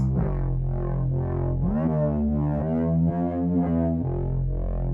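Wave music mix with hard distortion and compression: a thick, saturated synth line moving through gliding chord changes over a steady low bass, dense and loud throughout.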